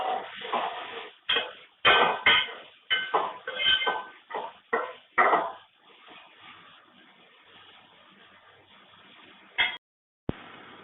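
Chopped tomato is stirred and sautéed in a cooking pan for a camel meat gravy, with irregular scraping and clattering of a spoon against metal that fades into quieter sizzling near the end.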